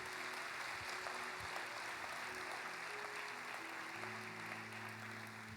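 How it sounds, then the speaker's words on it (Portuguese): A church congregation at a Brazilian celebration service applauding, a faint distant wash of clapping under low sustained tones, steady throughout. "Pode aplaudir o Senhor, pode aplaudir."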